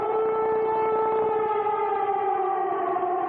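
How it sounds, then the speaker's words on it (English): An air raid siren wails over Baghdad, a steady rising-and-falling tone that begins to sag in pitch, heard from a distance with no voices. "after the air raid sirens sounded, warning of the attack to come"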